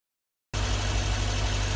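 A Lexus IS F engine, just after a transmission service, catches abruptly after a short silence, then settles into a steady, even idle that stays loud and close.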